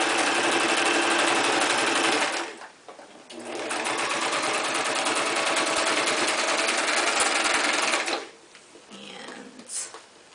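A sewing machine runs steadily while stitching a straight seam along a gathered hanging kitchen towel, with a loud continuous whir, a short pause near the middle, then another long run before it stops and a few light handling sounds follow.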